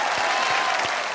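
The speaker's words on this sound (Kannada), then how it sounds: "ಇಬ್ರಿಗೂ ಜೋರಾಗಿ ಚಪ್ಪಾಳೆ" Studio audience on a Kannada TV game show breaks into loud applause, a brief dense burst of clapping that stays steady throughout with no talk over it.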